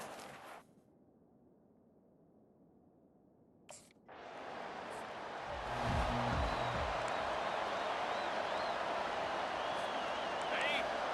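Stadium crowd in the EA Sports College Football video game, a broad roaring wash that swells after a brief quiet stretch and holds loud and steady, with low rhythmic thumps joining midway.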